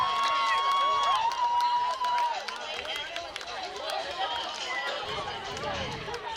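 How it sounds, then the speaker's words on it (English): A stadium crowd at an ultimate frisbee match between Indy Red and Austin Torch in Austin roars and cheers. The noise holds steady and broad throughout, with a commentator's voice and whistle-like tones over it early on. "you can feel it in the energy in the crowd here. They're loving it."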